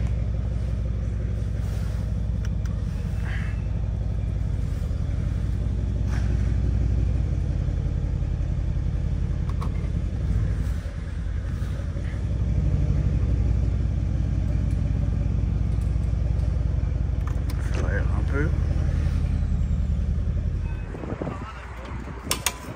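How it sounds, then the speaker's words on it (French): A car engine runs with a steady, deep rumble that swells and eases at times, close and sustained for over twenty seconds, with people talking over it and a few clicks near the end. "Je vais sortir la voiture."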